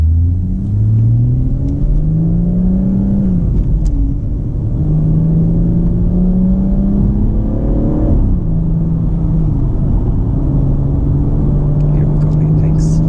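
A BMW M140i fitted with a JB+ tuning module accelerates under throttle, its engine note climbing in pitch through several rising sweeps, loud and close inside the cabin.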